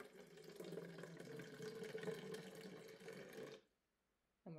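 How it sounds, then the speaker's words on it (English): Water poured from a bottle onto a soil wetland model, a continuous close splashing trickle lasting a few seconds before stopping abruptly, quiet overall with no talk. "we're just going to let that water rain onto our wetland"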